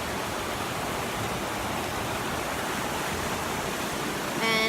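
Steady rushing water from river rapids, a continuous broadband roar that holds at an even level throughout, close by and uninterrupted, with no voices over it.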